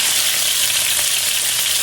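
Chicken frying in a covered pan on the stovetop with no oil, flour or breadcrumbs, giving a dense, even, loud sizzle that holds steady throughout with no talking.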